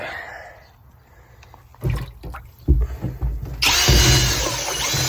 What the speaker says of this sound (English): Okay, next get the drill.